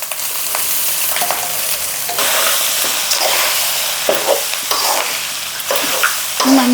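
Cooked rice for potato gongura pulihora is stirred in a hot pan, a loud continuous sizzle layered with scraping and tossing strokes from a spoon at an uneven rhythm.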